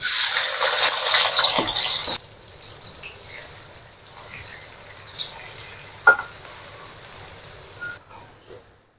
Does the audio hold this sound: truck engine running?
no